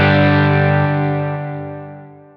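A sustained, distorted electric guitar chord through a Helix fades smoothly under a volume pedal while reverb and delay tails linger on as it dies away.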